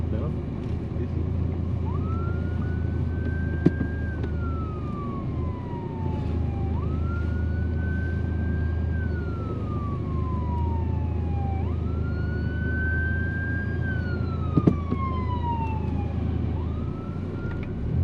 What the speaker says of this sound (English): the freaking fire truck going 10 miles an hour